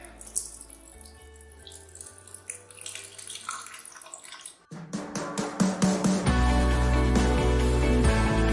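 Water pours into the measuring tank of a Reynolds' experiment lab rig, first a thin uneven trickle, then a loud, steady rushing stream that fills the space after a few seconds.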